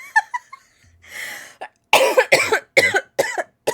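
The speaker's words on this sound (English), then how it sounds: "so I'm going to cough more than normal." A person coughs repeatedly: a few light coughs, a sharp breath in, then a string of harsh, loud coughs in quick succession.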